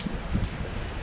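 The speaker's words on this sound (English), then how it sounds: "but it's still raining" Steady rain from Tropical Storm Laura pours down in Grand Cayman, a dense, even hiss of falling drops filling the whole moment without voices.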